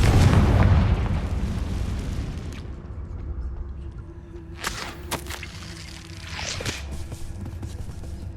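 Confringo blasting spell from Hogwarts Legacy erupts in a loud, booming explosion that rolls off into a fading rumble, followed by a few scattered, quieter bursts and crackles, with no talking.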